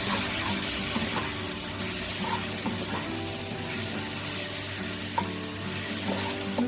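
Ground cumin, coriander and chili powder sizzle in a hot pan while being stirred, a close steady frying crackle with scattered scraping taps from the spoon, no voices.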